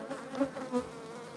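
Bees hover and buzz around a hive in a steady, close drone, with slight swells in loudness as individual insects pass near.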